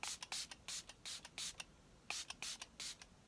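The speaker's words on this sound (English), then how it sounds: "now I'm going to set my face with the Milani Make It Last Setting Spray." Milani Make It Last Setting Spray misted onto a face in about nine short hissing pumps, irregularly spaced, close and fairly soft with no talking.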